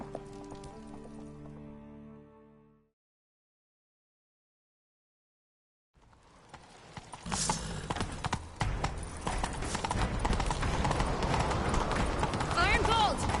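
Horse hooves clip-clop in The Witcher 3 as a rider sets off in pursuit, the steady hoofbeats loud and continuous behind game effects and brief voices, following a short silent gap after a tonal passage.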